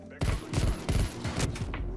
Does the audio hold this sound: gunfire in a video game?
yes